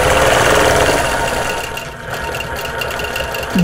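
A sewing machine stitches through a quilt with a fast, rattling mechanical hum that runs steadily and close for a few seconds, easing slightly partway through.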